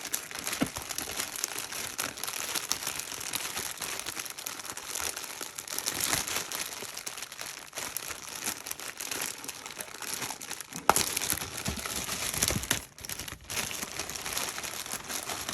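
Plastic parts bags from a Tamiya XV-02 Pro rally kit crinkle and rustle close up as they are handled and opened. The crackling is dense and continuous, with a sharper rip about two-thirds through.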